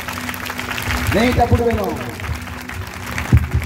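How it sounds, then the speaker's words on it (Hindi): A church congregation claps for Jesus in a short burst of applause, mixed with a voice speaking over it at close range. "भलो ताली मारो जिसु को पाए"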